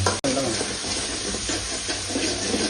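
Tomatoes and onion frying in oil in a pan, a dense close sizzle with stirring sounds and steamy hiss, broken by a brief cut near the start.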